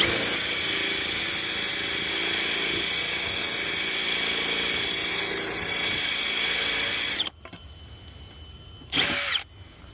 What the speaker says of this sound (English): breaking into my mailbox, had to drill